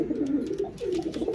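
Teddy pigeons coo close by in low, soft, rolling bursts, two or three throaty phrases overlapping across a short stretch with no talking.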